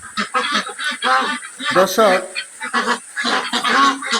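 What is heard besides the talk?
French Pekin ducks calling on a duck farm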